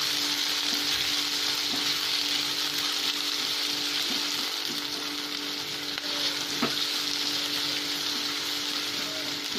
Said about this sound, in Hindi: बस लहसुन का जरा सा कलर चेंज हो गया, इसमें हम प्याज डालेंगे।